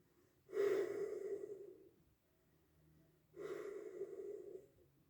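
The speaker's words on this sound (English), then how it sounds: "We'll sniff her from the can first." Two long, close nasal sniffs at a freshly opened can of golden beer, each drawn in sharply, with a quiet pause between them.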